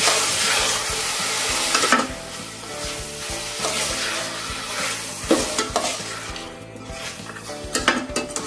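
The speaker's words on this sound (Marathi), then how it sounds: "सगळं व्यवस्थित परतून घ्यायचं आहे." Two finely chopped tomatoes are sautéed in a pan, a sizzling fry broken by frequent spatula scrapes and metallic clinks against the pan, close up and busy.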